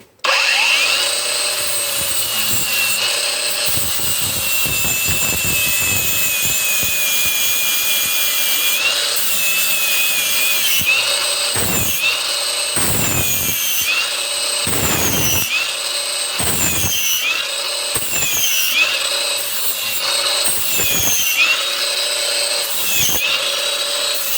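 Cordless angle grinder with an abrasive disc sharpening a garden hoe, a loud sustained high whine with repeated grinding bursts and brief dips as the wheel bites the metal, close-up, no talking.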